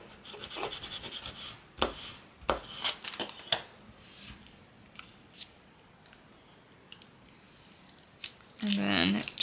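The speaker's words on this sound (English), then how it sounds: "Just really scrape to get that image to transfer to our transfer tape." A tool scrapes firmly over a printed image on transfer tape for a floating nativity ornament, with repeated short rubbing and scratching strokes, fairly close and moderately loud, in a quiet room.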